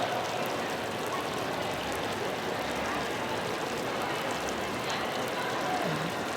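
Artificial rain pours down at the Rainstorm show on the Las Vegas Strip, a dense, continuous hiss of falling water that stays steady and fairly loud for the whole stretch.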